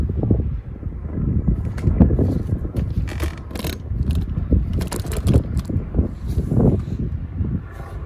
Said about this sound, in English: Sorry about that, wind was blowing.